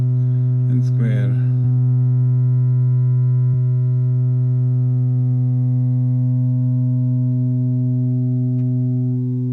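Square wave tone from an Erica Synths EDU DIY modular synth, a steady sustained buzzy pitch with a strong low hum underneath, holding unchanged for several seconds after a brief voice at the start.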